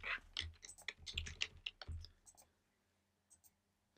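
Quick bursts of key clicks on a computer keyboard rattle out for about two seconds, close and fairly soft, then trail off into a few isolated taps against a quiet background.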